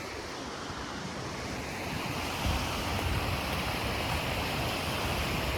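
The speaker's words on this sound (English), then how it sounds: "this is the amazing waterfall over here" An Icelandic waterfall roars as a steady, dense wash of falling water, broad and continuous, with wind buffeting the microphone and growing slightly louder partway through.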